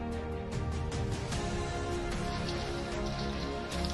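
Steady rain falls on surfaces at a bridge construction site, a dense, even patter with no voices, moderately quiet throughout.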